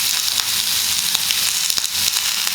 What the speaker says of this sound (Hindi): दोस्तों कोशिश कीजिएगा कि हर एक टुकड़ा जो है वो अच्छी तरह से भून जाए